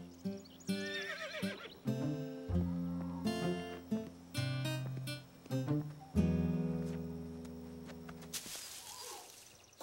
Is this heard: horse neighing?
yes